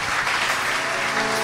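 A church congregation applauding during a Portuguese-language evening worship service, a brief, dense burst of clapping at steady loudness with no voices over it.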